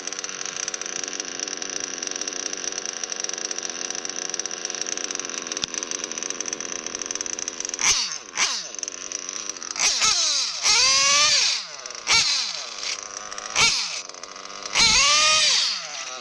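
An O.S. Speed B21AD nitro engine on an RC truggy idles with a steady buzzing drone, then revs up in repeated sharp, loud bursts that rise and fall in pitch, each separated by short pauses.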